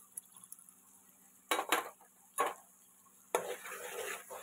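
A spoon stirs chili powder into potato curry cooking in a pan, heard as a few scraping, clinking strokes against the metal over a faint steady sizzle, close and with no talk.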